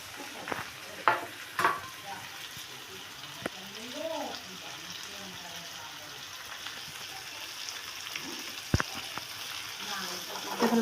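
Ground spices such as cumin, coriander and chicken masala with sugar and salt fry in a pan for a Bengali prawn and banana flower dish, with a soft steady sizzle, occasional spoon scrapes and clinks, and faint background voices.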